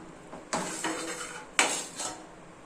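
Metal clatter as the weight is lifted off a pressure cooker and the lid is worked open while cooking paneer veg rice: two sharp clanks, each followed by softer rattles and scrapes, close and alone.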